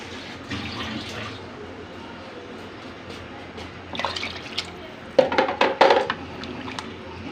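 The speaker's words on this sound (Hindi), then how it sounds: "अब हम इसमें पानी डालेंगे।" Water is poured into a metal pressure cooker pot over roasted chana dal, a soft splash followed by a louder gushing pour and clinks toward the end, over a faint background hiss.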